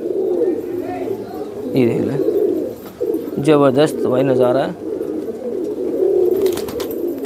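Pigeons coo loudly and repeatedly close by, in deep rolling bursts, while someone talks excitedly over them and faint birdsong chirps in the background.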